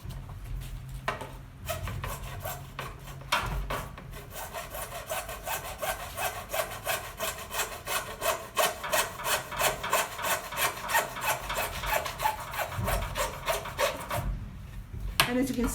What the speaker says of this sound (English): The next thing to do is to cut the PVC pipe with a saw at the measurement that was marked on it